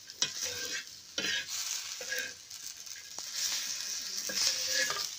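Green chillies roast on a hot griddle with a steady sizzle, broken by repeated scraping stirs of a spatula. The sound is close, with no talking.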